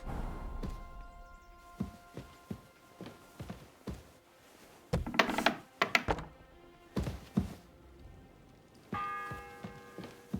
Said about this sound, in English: Uh-oh, another bell. The 6th bell.